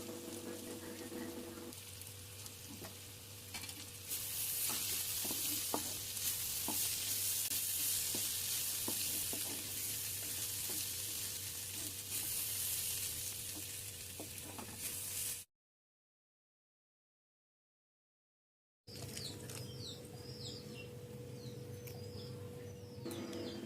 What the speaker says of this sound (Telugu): కొత్తిమీరని చల్లుకొని మళ్ళీ ఒకసారి మిక్స్ చేయండి